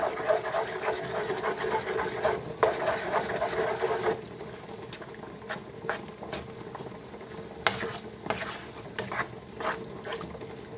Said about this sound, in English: We just keep this simmering.